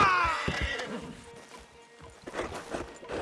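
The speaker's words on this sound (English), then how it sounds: "Javier, you're gonna lead the stallions." A horse neighs and whinnies loudly near the start of a Red Dead Redemption 2 scene, followed by softer snorts and hoof clip-clops with light background activity.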